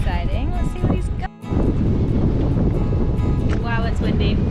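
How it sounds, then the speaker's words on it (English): Strong wind buffets the microphone on a fishing boat out on the water in New Zealand's Sounds, a loud steady rumble with people talking over it throughout. "Wow, it's windy."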